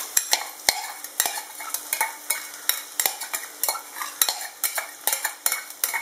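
Chopped onions, about four medium ones finely chopped, stirred in a pan of hot oil with fennel seeds for a spicy chicken curry, giving a steady sizzle broken by frequent sharp scrapes and clinks of a utensil against the pan, close and alone.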